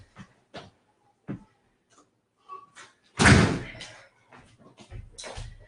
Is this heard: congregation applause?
no